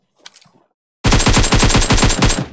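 Loud, close automatic gunfire from an online shooter match rattles in one rapid continuous burst of about a second and a half, after a brief soft voice.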